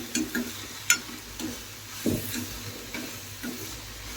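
Onions sauté in a pan for a kurma, a soft steady sizzle and hiss close by, punctuated by a few light spatula scrapes and taps at irregular intervals, with no one speaking.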